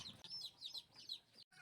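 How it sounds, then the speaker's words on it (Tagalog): Newly marked chicks in a brooder peep in quick, repeated high chirps, close and fairly soft, with a brief dropout near the end. "May ingay na ang sisiw"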